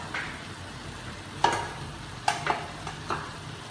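Chopped green onions are stirred into a pan of shredded boiled chicken for fried rice, a soft low sizzle broken by a few distinct spatula clinks and scrapes, close but fairly quiet, with no talking.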